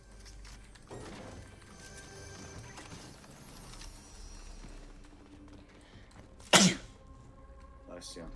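A single sharp, loud sneeze bursts out about two thirds of the way through, standing well above the low game sounds and background noise around it.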